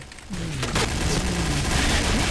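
Pindad SS3 assault rifle fire in a video game, sustained rapid bursts over a steady loud backdrop, with a voice talking underneath.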